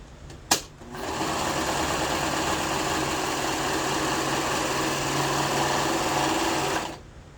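A serger sewing machine runs at a steady, loud whir for about six seconds after a brief click, then stops abruptly.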